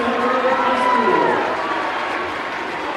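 Loud crowd applause and cheering fill a basketball gym for a player's jersey retirement ceremony at a boys' high school game, a dense sustained roar with a voice or whistle carrying through it.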